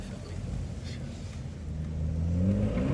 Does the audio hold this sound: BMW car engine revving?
yes